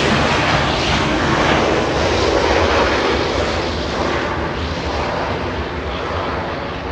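A United Boeing 737-800 at Los Angeles International Airport produces a loud, sustained jet roar with a dense low rumble that stays strong throughout and fades slightly toward the end, no speech.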